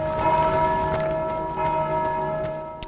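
Bell ringing in the Dark Souls 2 video game, a sustained metallic tone with steady ringing overtones that slowly decays over about three seconds, heard alone and fairly loud.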